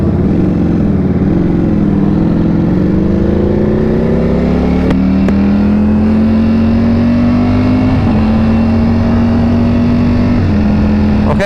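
A 2023 Ducati Panigale V4 or 2022 Aprilia RSV4 superbike accelerates as the clutch is released, a loud, close engine note climbing steadily in pitch for several seconds, with a brief shift partway through.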